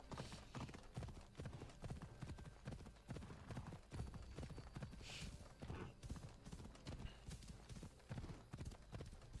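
Horse hooves clip-clop in Assassin's Creed Odyssey, a quick rhythmic run of loud game hoofbeats with brief whooshes over them, with no talk.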